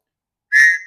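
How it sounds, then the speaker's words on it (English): A Tops emergency whistle gives one short, shrill blast, loud and close, starting abruptly after silence and fading quickly. "I've got a Tops emergency whistle."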